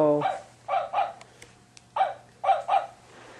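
A puppy gives a string of short, high yips in pairs and triplets, close and fairly quiet against a low steady hum, with brief pauses between bursts.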